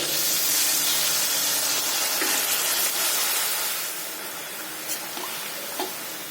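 A splash of water hits sizzling ginger garlic paste with green chili paste in a hot pan, setting off a loud, broad steamy hiss that slowly eases into a lighter sizzle.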